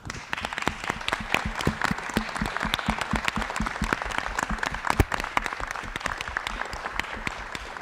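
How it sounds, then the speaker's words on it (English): Audience applause at a privacy symposium in Istanbul, dense sustained clapping from a crowd with a few sharper claps standing out, steady and fairly close throughout. "I think you all deserve a round of applause."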